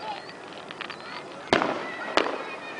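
Fireworks at an outdoor show in New Lexington: two sharp, loud bangs about half a second apart, over a steady murmur of crowd noise.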